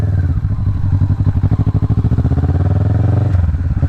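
Kawasaki Vulcan S motorcycle being ridden, a loud close engine with a rapid pulsing throb at steady speed, easing slightly near the end.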